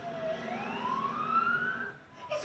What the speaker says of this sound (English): A basic life support CN ambulance was immediately dispatched.